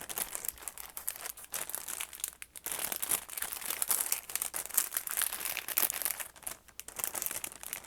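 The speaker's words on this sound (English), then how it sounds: "Sorry if you don't like the crinkling" Continuous crinkling and crumpling of plastic and paper packing material as extra journal supplies are stuffed into a bag, close and steady with brief pauses, no voices.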